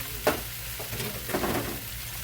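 Chopped onions are stirred in a hot oiled skillet, a steady close sizzle broken by a few soft scraping knocks of the spoon against the pan.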